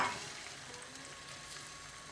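A wrap cooking in hot oil in a pan gives a soft, steady sizzle and crackle throughout, quiet and close.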